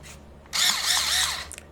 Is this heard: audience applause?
no